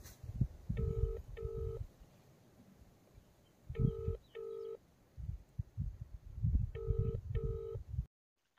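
A phone places a return call, giving three evenly spaced pairs of electronic ringing tones over low background rumble, with a short silence at the end.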